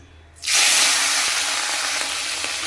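Small tangra fish hit hot oil in a pan and break into a loud, steady sizzle close up, rising abruptly after a quiet start and holding a dense hiss with faint pops.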